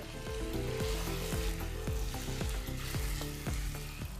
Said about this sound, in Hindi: अच्छे तरीके से भून लेंगे चिकन को।